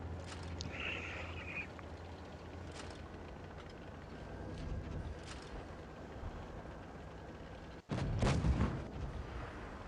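Tank cannon fire in a tank video game: a few distant booming shots early on, then one loud, close cannon blast near the end followed by a rumbling roar over low engine hum.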